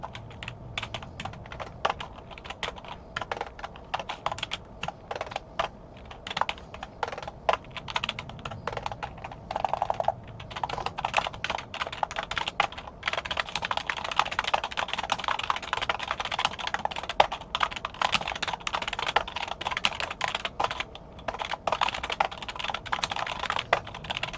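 Fingers tap a computer keyboard while entering spreadsheet data, a long run of fast, close, crisp key clicks with short irregular pauses and occasional heavier keystrokes, without any speech.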